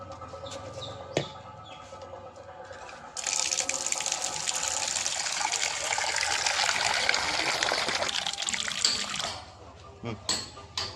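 Water pours steadily from a tap into a bowl for birds for several seconds, with a few clinks before and after and voices talking nearby.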